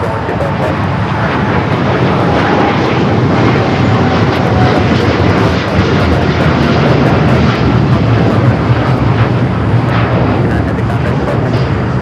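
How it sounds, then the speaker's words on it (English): A Boeing 787 Dreamliner rolls along the runway at LAX, a steady, loud broadband jet roar that holds throughout, with faint voices murmuring underneath. "The Dreamliner now rolling down to 5 right."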